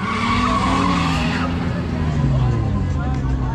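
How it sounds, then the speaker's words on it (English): A Honda Civic drifting at a New York City car meet, its tires skidding and squealing in a steady loud roar for a few seconds, with crowd chatter and voices throughout. "Drifting around the freaking Civic."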